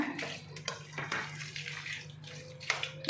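Food soaked overnight gets stirred in a metal vessel, with scattered scraping clinks and wet squelches from a spoon, fairly quiet and close, and brief indistinct voices in between.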